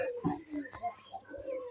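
Pigeons kept as domestic birds coo softly in short, low, rounded calls, faint and close, repeated a few times in quick succession without talk.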